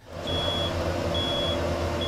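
A smoke alarm gives a high, steady electronic beep, repeating in long tones over a loud, rumbling background with engine-like noise.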